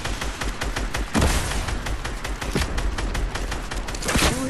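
Rockets launched at an enemy in a battle game, a dense barrage of blasts and booming impacts over several seconds, loud and continuous with no talk.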